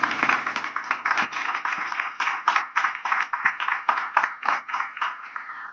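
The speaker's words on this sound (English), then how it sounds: "A round of applause for sir." An audience at a water management conclave applauds a speaker, a moderate, somewhat sparse clapping with distinct individual claps, steady and unaccompanied by talk.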